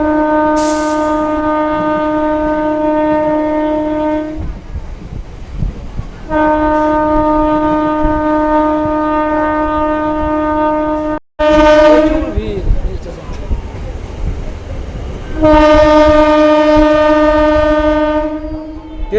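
A new Katwa–Barddhaman MEMU local train sounds its horn in long, loud sustained blasts, several in a row with short breaks, over rumbling running noise as it heads toward Bhatar through flooded fields.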